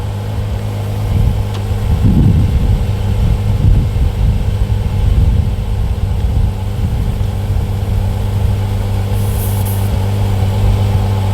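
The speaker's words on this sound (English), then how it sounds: "So this little DeWalt pump here works really great. You just turn it on." A small DeWalt tire inflator pump runs alone with a steady, loud motor drone and a low hum. Its rhythmic compressor pulsing is strongest early on and then settles into an even, sustained whir.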